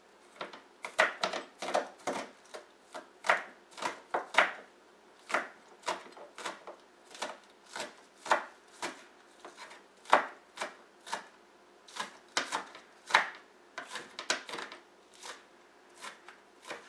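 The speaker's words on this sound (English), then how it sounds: "I'm going to cut up some of the green onions that we're going to add later" A knife chops green onions on a board in a long run of crisp, evenly spaced strikes, close and clear, with no talking.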